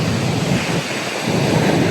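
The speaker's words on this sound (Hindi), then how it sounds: "हवा तो बहुत तेज़ आ रही" Strong monsoon gusts at Candolim beach, Goa, buffet the microphone with a low, rumbling roar while rain hisses steadily underneath.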